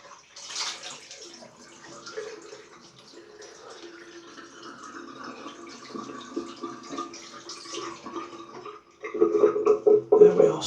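Water running and splashing as a face is rinsed with cold water after a straight-razor shave, a steady wash of flow for most of the stretch, then louder, closer splashing near the end.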